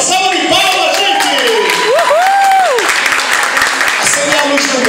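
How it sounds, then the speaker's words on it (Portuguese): An audience applauds for second-year students of a school at a theatre performance, a steady wash of clapping with cheers and shouted voices rising over it. "Uma salva de palmas, gente!"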